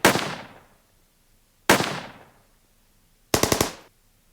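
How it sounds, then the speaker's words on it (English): Toxic bomb detonation effect from a strategy war game: two sharp blasts with long fading tails, then a quick burst of four rapid cracks, loud and close with no talk. "Detonate toxic bomb."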